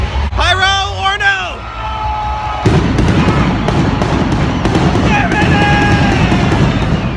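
Pyrotechnics firing during a wrestler's entrance at a WWE SmackDown live event, with loud bursts and crackling over a roaring arena crowd and entrance music, while people nearby talk and shout.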